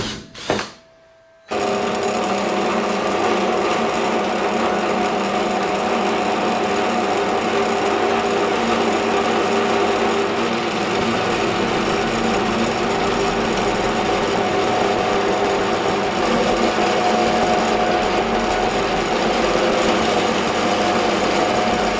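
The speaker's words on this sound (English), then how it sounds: "I'm just going to pre-drill a small hole on the edge there." A power drill bores a small pilot hole into the edge of a piece of steel tubing, a loud, continuous high whine and grinding that runs steadily for about twenty seconds after a short pause, with no talking.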